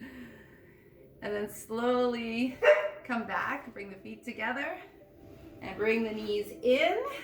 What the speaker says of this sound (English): Yes, that's my dog barking.